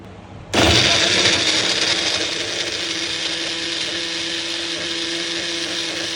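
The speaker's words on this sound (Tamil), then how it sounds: "அதனால் புல்லட் மிக்சியில் போட போகிறோம்." A bullet mixer whirs loudly as it blends mango slices, milk, ice cream and sugar, starting abruptly and holding a steady, high-pitched motor whine that eases slightly after the first second.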